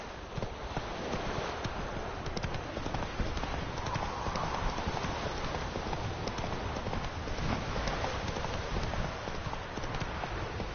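Roach the horse gallops with a steady, rapid clip-clop of hooves under constant wind and ambient noise, with no talking.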